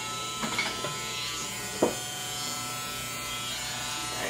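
Electric clippers buzz steadily through hair being shaved off, a continuous close hum with a few brief louder scraping bursts near the start and middle, no talking.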